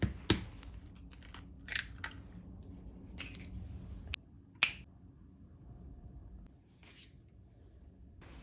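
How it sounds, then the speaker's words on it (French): Two large eggs crack into glass baking dishes, giving a handful of sharp, close taps and shell snaps spread over several seconds against a quiet kitchen background. "je commence par casser 2 gros œufs dans chacun"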